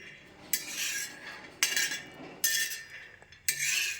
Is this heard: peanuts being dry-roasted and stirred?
yes